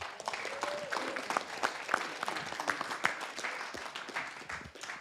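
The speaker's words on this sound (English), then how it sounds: "Let's give Ms. Greer a round of applause" A council meeting audience gives a round of applause, dense overlapping clapping with sharp individual claps, sustained for several seconds at moderate distance.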